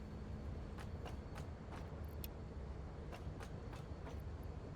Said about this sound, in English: And stop the train right before we go to our station.